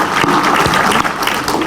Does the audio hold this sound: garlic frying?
no